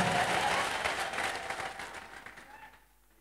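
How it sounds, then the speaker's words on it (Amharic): A church congregation applauds and ululates together, a dense, loud wash of clapping with a thin trilling tone riding on top that gradually fades out toward the end. "አረ ከዚህ በላይ እልልታና ጭብጨባ።"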